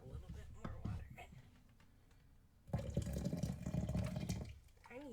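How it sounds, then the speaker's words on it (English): Water poured into a container to steep herbs for a homemade brew, a brief splash and trickle followed by a longer, louder stream of filling liquid, close by and heard alone. "add a little bit more water."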